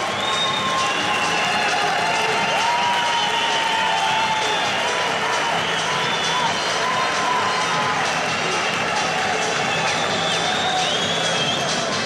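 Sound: arena crowd cheering before wrestling final

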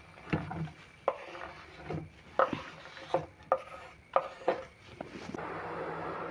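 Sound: chopping tomatoes with a knife

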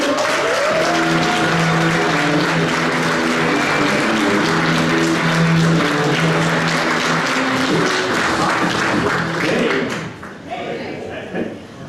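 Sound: audience applause at stand-up comedy show

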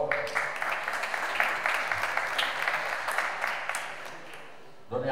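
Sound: audience applause at golf championship award ceremony

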